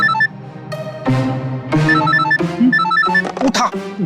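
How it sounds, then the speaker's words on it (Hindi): A telephone rings in an office scene of a Hindi crime drama, its bright repeating tones layered over music and busy background sound at moderate loudness. "फोन उठा जल्दी जल्दी जल्दी।"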